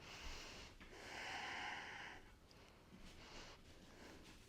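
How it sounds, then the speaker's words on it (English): Soft, slow breaths with a faint snoring rasp, close by and quiet, in a calm room. "I can hear Yoda snoring"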